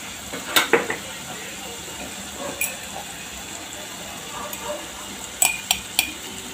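Dry spices go into a sizzling masala paste in a pan while a spoon stirs, giving soft frying hiss with intermittent clinks of the spoon against the pan.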